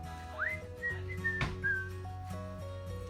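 A person whistles a bright, sliding melody of a few short notes, close and clear, over a steady low background tone.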